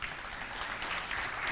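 Applause from a conference audience at a tech talk on Java in Docker, a dense, steady patter of clapping filling the whole short stretch at moderate loudness.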